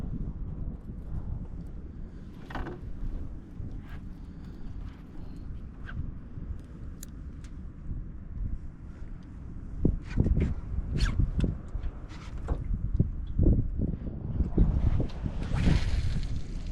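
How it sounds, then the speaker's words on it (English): Wind gusting across shallow grassy flats buffets the microphone while a small boat drifts, a steady low rumble with scattered knocks and water sounds growing louder toward the end. "So I'm gonna let the wind blow me now."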